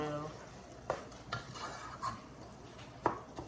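A utensil stirs seasoned ground beef for adobo in a pan, with faint scraping and a few sharp clinks against the metal in a quiet kitchen.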